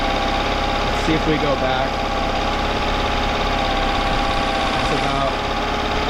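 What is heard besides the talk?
outboard motor engine idling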